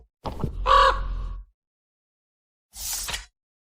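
A crow caws in a story sound effect, one loud harsh call followed after a short silence by a second, briefer rasping caw, both close and clear.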